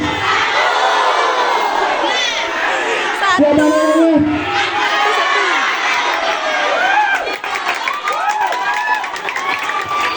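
Schoolchildren at a student council election announcement erupting in loud cheering, shouting and clapping, a dense crowd roar that lasts throughout, with a voice speaking briefly amid the din.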